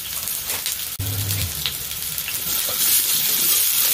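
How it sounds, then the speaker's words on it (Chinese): Oil sizzling and crackling in a heated clay pot over low heat for roast squab with sand ginger, a steady frying hiss with a sharp knock of a utensil early on. "炒香佢。"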